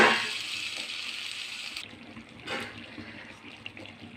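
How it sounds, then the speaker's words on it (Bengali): Water is poured into a pan of Malabar spinach (pui shak) curry, a steady broadband splash up front that fades after about two seconds, leaving a soft simmer with a brief later pour-like burst. "এবার এর মধ্যে অল্প একটু জল দিয়ে দেবো"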